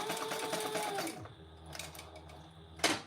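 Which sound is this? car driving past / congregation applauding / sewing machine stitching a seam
sewing machine stitching a seam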